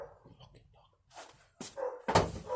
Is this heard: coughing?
no